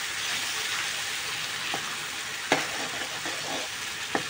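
Egg curry masala frying in a pan, a dense steady sizzle filling the clip, with a few soft stirring scrapes and a sharper clink of the spoon near the middle and the end.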